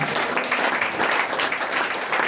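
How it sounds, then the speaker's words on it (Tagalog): A church congregation breaks into loud, continuous applause during a preaching service, many hands clapping together in an even, close wall of sound with no voices standing out. "Palakpakan natin ang Panginoon."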